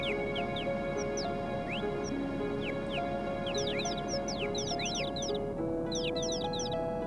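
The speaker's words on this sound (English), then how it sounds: "If you go along the path, you'll hear some birds chirping." Many birds chirp and trill in quick overlapping bursts over a steady ambient hum, with the calls growing busier toward the end, in the video game Final Fantasy VII.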